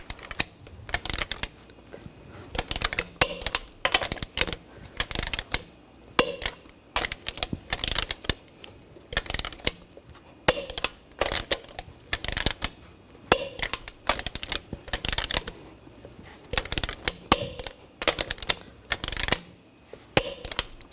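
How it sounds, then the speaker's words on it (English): Torque wrench tightening lug nuts on a Cadillac Escalade wheel, sharp metallic clicks and ratcheting in many quick bursts separated by short pauses, close and loud. "Now we're going to torque the lug nuts to 140 foot-pounds in a cross pattern"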